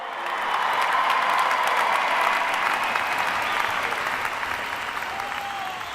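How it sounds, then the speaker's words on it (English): An audience at a Central Valley Promise kickoff event bursts into loud, steady applause that swells and then tapers slightly, with faint cheers mixed into the dense clapping. "Let's give a big round of applause to our video production team for that amazing video."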